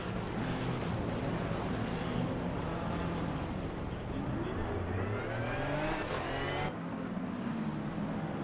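GT3 race cars from Assetto Corsa Competizione on warm-up laps at Barcelona in wet conditions, engines droning and rising steadily throughout, with pitch sweeps as cars accelerate and pass.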